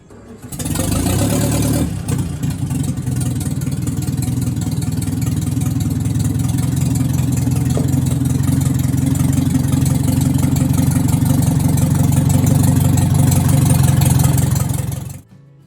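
The engine of an old Morris LC truck with a cracked engine block starts up and runs loudly and steadily up close for about fifteen seconds, a deep continuous rumble that cuts off at the end.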